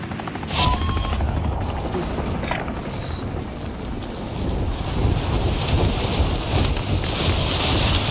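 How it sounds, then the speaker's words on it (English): A helicopter from the Call of Duty Warzone battle royale drones steadily, with a constant rotor rumble and wind-like rush and no clear changes in level. "Marked a helo."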